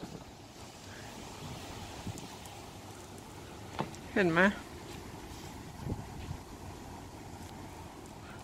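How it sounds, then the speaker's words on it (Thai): Strong wind blowing outdoors in England, a constant broadband rush with microphone buffeting throughout, while someone speaks briefly over it. "ลมแรงมาก"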